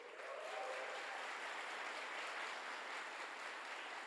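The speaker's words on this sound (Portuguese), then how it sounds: "Uma salva de palmas para eles" A church congregation applauds a missionary couple, a wide, even wash of clapping that stays steady from start to finish with no talk.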